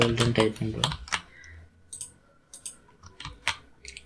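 Someone types on a computer keyboard, entering text into a code editor during an HTML tutorial: a fast burst of clustered clicks, then sparser individual keystrokes, close and moderately loud, with a voice talking over the start.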